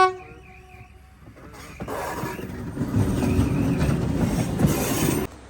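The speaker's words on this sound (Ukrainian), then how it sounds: "тільки що поїзд проїхав" Train rolling past on railway tracks, starting with a brief horn-like tone then building to a loud, sustained rumble with wheel clatter and a high squeal, ending abruptly as it passes.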